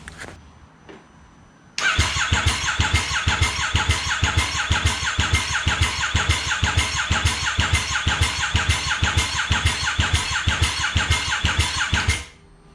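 A small engine on a coin-operated ride, running on just a little fuel, cranks and catches, then runs in a steady, rapid, even chug for about ten seconds before cutting out, close and loud.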